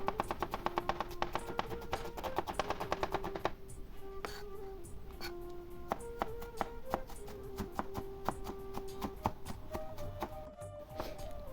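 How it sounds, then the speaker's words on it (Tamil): A knife chops a large onion into small pieces on a board, steady quick taps repeating throughout at a soft level, with a faint background tone underneath. "பெரிய வெங்காயத்தை நல்ல சின்ன துண்டுகளாக வெட்டி எடுத்துக்கொள்ள வேண்டும்"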